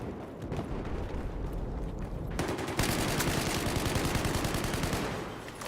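Sustained automatic gunfire rattles through a Battlefield 4 match, dense and continuous, swelling into a heavier, louder barrage halfway through with rapid overlapping shots.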